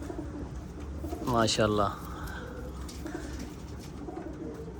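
Sialkoti pigeons, a small-beaked, small-headed pied breed, give one clear rolling coo from close by, with a man's brief spoken remark nearby and a quiet background before and after.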